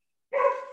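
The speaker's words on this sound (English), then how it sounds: "I have 5 dogs at my house" A dog barks once, close and fairly loud, a short sharp bark starting after a brief silence and fading out, at a house with five dogs.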